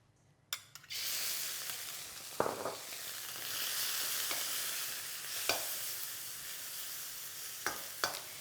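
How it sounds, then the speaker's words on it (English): Prawns hitting hot oil in a wok burst into a sudden loud sizzle that settles into a steady hiss, broken by several sharp spatula clanks against the metal, close up with no talking. "I'm going to cook off my prawns and set it aside to mix in later on"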